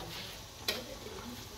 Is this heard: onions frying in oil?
yes